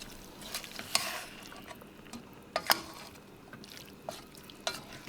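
Cheese dip melts in a pot over low heat as a spoon stirs it, giving soft scraping and clinking strokes at irregular intervals over a quiet, close background.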